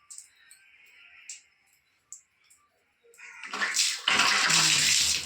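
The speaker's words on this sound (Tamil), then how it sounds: "தண்ணி வருது" Water flows into a bathroom, beginning with faint taps and drips, then swelling into a loud, steady gushing rush that fills the last two seconds.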